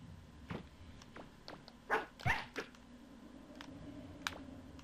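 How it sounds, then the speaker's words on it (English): A dog in the Nintendo 64 game Megaman 64 barks a few times, with short sharp bursts near the middle, over steady game background noise. "Yep, I just kicked the dog. Because it was trying to bite me."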